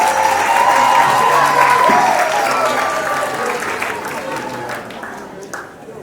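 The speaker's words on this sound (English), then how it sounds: "Give him a warm round of applause," Loud sustained applause and cheering from an awards night audience, a dense wash of clapping that gradually tapers off toward the end, with some crowd voices mixed in.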